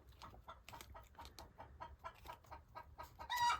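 Chickens in rural France cluck in a steady, repeated rhythm, fairly faint and close to mid-distance, with a brighter squawk or crow near the end.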